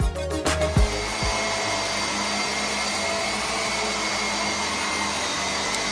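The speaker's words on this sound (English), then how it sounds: "we cracked out the vacuum cleaner" Loud vacuum cleaner roaring steadily on a bathroom carpet during professional carpet cleaning, with a few knocks and bumps as it starts, then a continuous even drone.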